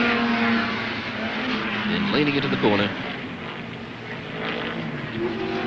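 Red Chevrolet Camaro improved production touring car racing at Warwick Farm circuit in 1971, its engine droning steadily through a corner with a rising, revving whine midway, heard beneath continuous race commentary.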